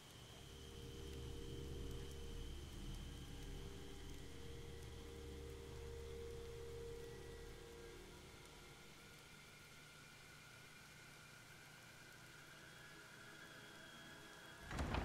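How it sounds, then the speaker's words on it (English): Steady rain in the video game The Evil Within hisses continuously at a moderate level with a low rumble underneath that fades partway through, ending in a brief louder burst. "He's enjoying the rain."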